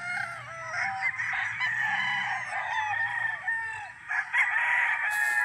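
Several chickens clucking and a rooster crowing nearby at a game farm, with continuous overlapping calls and a busy farmyard background.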